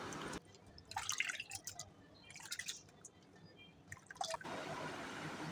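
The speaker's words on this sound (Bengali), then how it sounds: "যতক্ষণ না আলুগুলো একদম ফ্রেশ হবে ততক্ষণ পর্যন্ত আমি আলুগুলোকে ধুতে থাকবো" Potatoes are washed in water, with splashing and dripping sounds coming in short clusters over a steady running-water background, close by and fairly soft with no speech.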